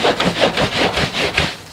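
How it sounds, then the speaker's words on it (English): A folded cloth is rubbed hard back and forth to scrub Simple Green cleaning solution into a dirty car floor mat, giving loud, close, rhythmic scrubbing strokes, about eight in quick succession. "now I'm going to rub aggressively and mop up my cleaning solution in the dirt"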